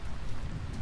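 Steady rain in the video game Vintage Story, a dense, continuous hiss of falling drops with a low rumble underneath, even and unbroken.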